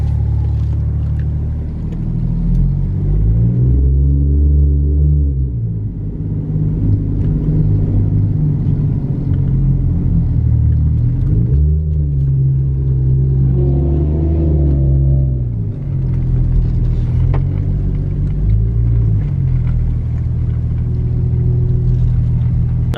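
Toyota JZX110 Mark II driving, with a loud, close, continuous engine drone inside the car that rises and falls in pitch through repeated accelerations and gear changes over a road rumble.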